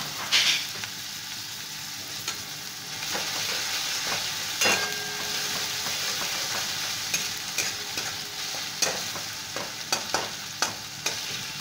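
Chopped garlic stirred and fried in a pan for stuffed capsicum, a continuous sizzle broken by repeated scraping clicks of a spoon against the pan, growing more frequent toward the end, no talking.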